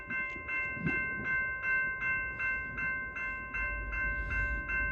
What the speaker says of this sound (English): Here we've got a train jumping off the Napier subdivision onto the Creston